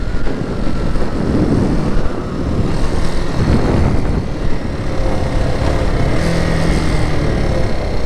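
A Brixton Felsberg 250 motorcycle accelerates on the road, its engine loud and close under heavy wind rush, rising and falling through the gears with no speech.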